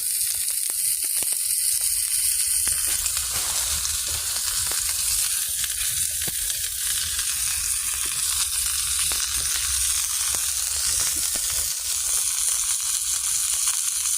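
Steady, loud sizzling of food frying in a hot pan at a campsite, a continuous crackling hiss with occasional sharper pops throughout.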